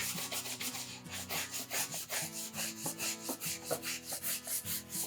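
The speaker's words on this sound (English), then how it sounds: "I'm going to get a fairly soft bristle brush" Close, quiet rhythmic scrubbing of a soft bristle brush on a wet leather saddle seat, with steady back-and-forth strokes and no talk.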